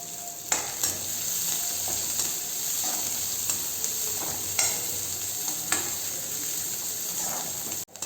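Onions with a few curry leaves sauté in a pan with a constant close hiss, while a spoon stirs and scrapes them in regular strokes every second or so.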